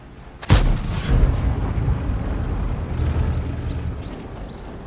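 An AMX 30 tank cannon fires in World of Tanks, one sharp loud boom near the start followed by a rumbling tail and lingering low battle noise for several seconds.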